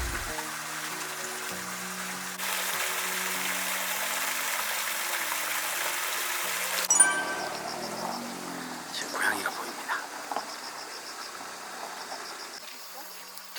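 A flowing stream runs beside a campsite at a caravan site in Gapyeong, a steady broadband rush heard under music and people talking.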